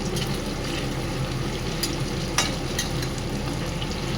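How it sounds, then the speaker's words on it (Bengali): Pieces of gurī taro sizzle steadily in hot oil in a pan, with a continuous close frying hiss and a few sharper scraping clicks as the pieces are stirred and turned over. "এই কচুগুলো আমি ভাজছি, এখন উল্টে পাল্টে দেবো একটু"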